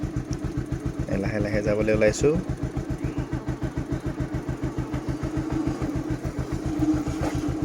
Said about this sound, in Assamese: এয়া বাইক ষ্টাৰ্ট দিম এতিয়া